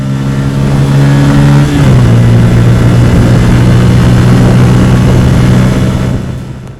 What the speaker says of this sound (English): my favorite aspect is the exhaust note that's surprisingly bassy and punchy